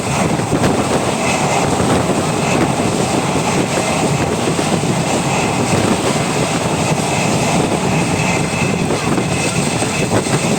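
A train running on rails through green countryside on the way to Nabadwip Dham station, a loud unbroken rumble and rattle heard from inside, close and steady throughout.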